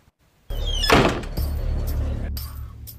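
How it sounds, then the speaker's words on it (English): A staff-room door closes with one solid, close thunk, followed by a quieter knock and a steady low background hum. "Close the door"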